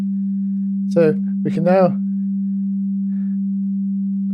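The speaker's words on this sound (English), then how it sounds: "So now we've got a nice sine wave." A synthesizer oscillator holds a steady, pure low sine tone without a break, while someone speaks briefly over it.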